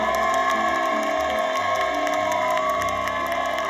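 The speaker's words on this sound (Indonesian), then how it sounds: "Tepuk tangan dulu buat Maria Vania" Studio audience applause and cheering on the Hidden Talent show, with a few whoops, rises over sustained music in a loud, continuous wash.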